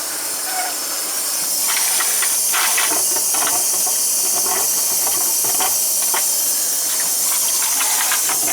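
Water and air purge through the heating zones of a hot water storage tank in a loud, continuous hiss with scattered gurgling and spitting bursts close by, and no voices.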